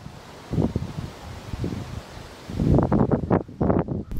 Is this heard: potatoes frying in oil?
no